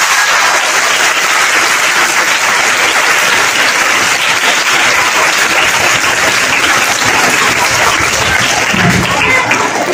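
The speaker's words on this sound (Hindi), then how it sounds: "मैं सबसे पहले उस छोटी लड़की आयत मुबीन के लिए चाहता हूं कि आप सब जोरदार तालियां दें।" Loud, dense applause from a large school audience at an Independence Day celebration, honoring a little girl; sustained, steady clapping for about ten seconds with crowd noise and some voices mixed in.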